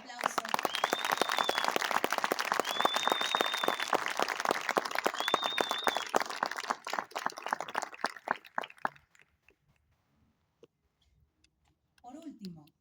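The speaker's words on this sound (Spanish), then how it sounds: "¡Bravo! Otro aplauso." Audience applause at a church event honouring evangelical congregations, dense steady clapping that runs for about eight seconds, thins out and stops, followed by near silence and a brief voice at the end.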